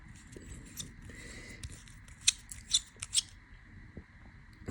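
A telescope eyepiece's eye cup twisted off by hand, giving a few short, close, crisp scraping clicks of threads in a quiet room, several grouped near the middle.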